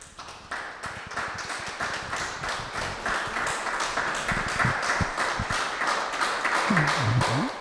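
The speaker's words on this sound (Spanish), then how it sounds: "Un aplauso al Señor." A church congregation claps in steady rhythmic unison at a worship service, a sharp repeated beat that stays loud throughout, with a voice surfacing briefly near the end.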